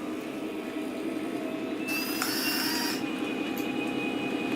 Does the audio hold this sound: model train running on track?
yes